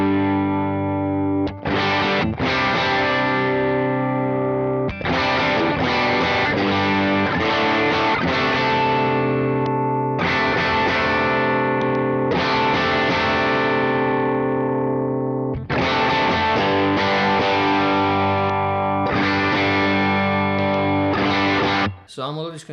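Continuous electric guitar playing runs through an overdrive pedal, giving dense, gritty, sustained chords and riffs with brief pauses between phrases, loud and steady throughout.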